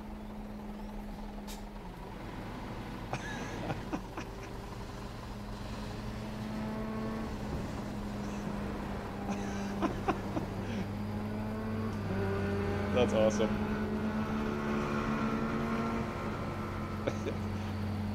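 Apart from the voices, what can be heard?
motorbike engine revving in a truck simulator video game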